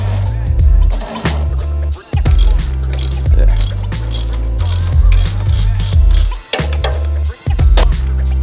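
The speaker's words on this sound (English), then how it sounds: "I've now got a proper spring compressor" Spring compressor ratcheting on a Mustang coil spring in a home shed, a loud, repeated clicking and grinding mechanism with brief pauses between bursts of cranking.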